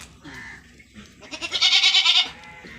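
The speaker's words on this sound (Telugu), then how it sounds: "ఈ మేకలన్నీ మొత్తుకుంటున్నాయి పాపం" Near and loud, a goat on a village farm that lost its young to dogs gives a long, quavering bleat, preceded by softer animal calls.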